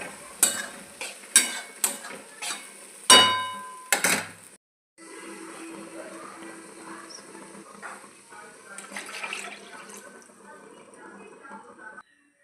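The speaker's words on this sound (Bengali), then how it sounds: "তারপর মোচা সেদ্ধ আর মুসুর কলাইগুলো দিয়ে ভালো মতো করে কষিয়ে নিতে হবে।" Boiled banana flower and red lentils are stir-fried in a pan: a spatula clinks and scrapes in a quick run of strokes, then a soft, steady sizzle simmers on as a voice speaks intermittently.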